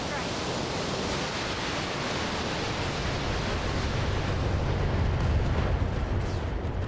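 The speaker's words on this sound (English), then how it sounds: "We got the ammo explosion." A loud, sustained roaring blast from an ammunition explosion in a mech combat video game fills the clip as dense broadband rumble, with faint high beeps near the end.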